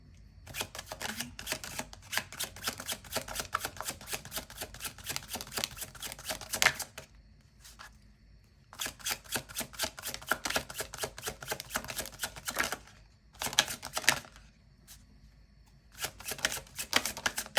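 Tarot cards shuffled in long crisp riffling bursts, close and fairly loud, with two short pauses between runs and no talking over them.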